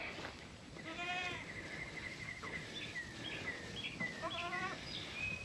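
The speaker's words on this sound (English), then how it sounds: "Isn't that a good looking group of goats?" Several goats bleat a few times in wavering cries, some nearer and some farther off, over a quiet outdoor background with faint birdsong.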